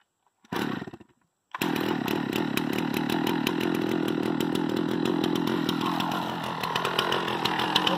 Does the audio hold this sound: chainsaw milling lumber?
yes